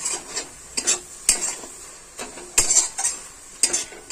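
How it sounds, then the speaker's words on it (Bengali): Metal lid lifted off a pot of boiling khesari greens and lentils, a series of sharp clanks and clinks at irregular intervals over a soft bubbling background, close and fairly loud. "তো এখন ঢাকনাটা খুলে দেখব সিদ্ধ হয়েছে কিনা।"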